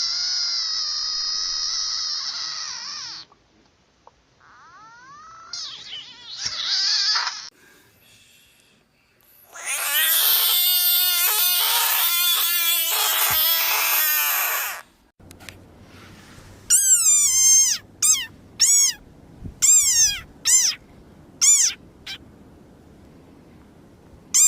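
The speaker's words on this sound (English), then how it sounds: "There's other reeing frogs, too." A compilation of calling frogs: loud, strained, harmonic screams and croaks in separate bursts, some long and drawn out, others short and repeated, with silences between them and no talking.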